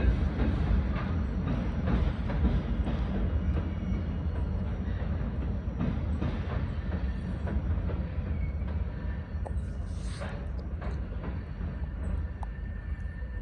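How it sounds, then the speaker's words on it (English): A short line railroad train rumbles steadily past on the tracks near Cincinnati's Clare Yard, a continuous low roar with faint metallic squeals near the end, no voices. "that train came through here just in time"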